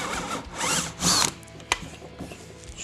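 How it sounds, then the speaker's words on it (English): Power drill fitted with a 5/16 brad point bit boring into a solid guitar body for a string-through bridge, two short whirring bursts followed by a sharp click and quieter mechanical handling. "I switched the bit over to a 5/16 brad point, and we'll drill about 1/2 inch down"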